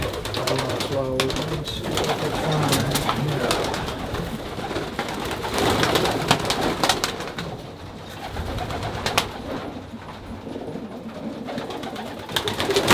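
Soft, repeated cooing of pigeons in a loft, several birds overlapping near and far, with people talking and occasional rustles and clicks.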